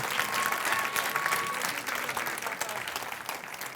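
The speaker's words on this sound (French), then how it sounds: "j'aimerais ça qu'on leur donne une bonne main d'applaudissements" A crowd applauds at an improv theatre tournament match, a dense steady wash of clapping that holds strong before easing off slightly toward the end.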